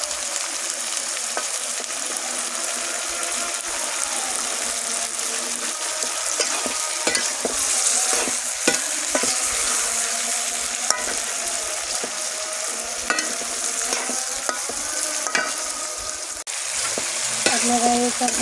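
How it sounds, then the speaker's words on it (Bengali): Potatoes and bitter gourd fry in plenty of oil in a pan, a steady close sizzle running throughout while a spatula periodically scrapes and stirs, sharp clicks popping out above the hiss; no voices. "আলু করলা একসাথে আমি ভেজে নেব, একটু লাল লাল করে ভেজে নেব।"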